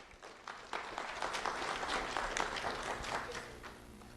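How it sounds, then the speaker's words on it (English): A crowd claps together in a soft, sustained round of applause that holds steady for a few seconds. "Anson Bristol, a round of applause."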